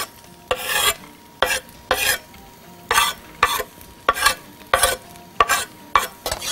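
Minced garlic and carrot frying in hot oil, stirred with repeated bursts of scraping and sizzling roughly every half second, close and fairly loud, without talking.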